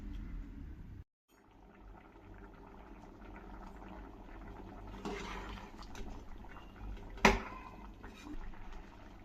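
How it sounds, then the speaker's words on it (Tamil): Rice and water for chicken biryani simmer in a pot, a steady low bubbling wash with a brief clatter partway through, heard up close without talk. "நல்லா கொதிக்கட்டும்."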